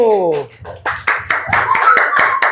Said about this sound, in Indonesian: berikan tepuk tangan yang meriah untuk kelompok 1